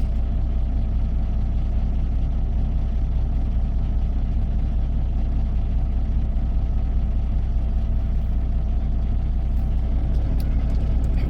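A car-hauler truck maneuvers and turns around in a tight, crowded parking lot at night, its steady low engine rumble droning without a break throughout.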